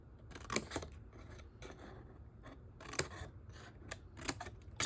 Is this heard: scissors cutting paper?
yes